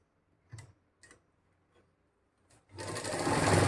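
A sewing machine stitches the folded waistband of a farshi salwar, a few isolated needle clicks first, then a close, steady, loud run of stitching.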